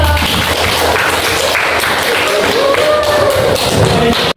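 A classroom group claps loudly after a student group's presentation in a school lesson, a dense burst of applause with thumps and a few voices mixed in, cutting off abruptly at the end.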